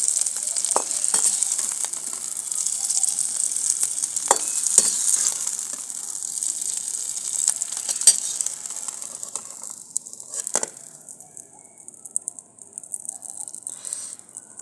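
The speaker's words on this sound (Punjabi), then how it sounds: "ਲਓ ਆਪਣੀਆਂ ਫਾੜੀਆਂ ਫਰਾਈ ਹੋ ਗਈਆਂ" Potato slices for a dhaba-style aloo curry sizzle and fry steadily in oil in a pan, a continuous close hiss broken by occasional clatters of stirring, with no talk.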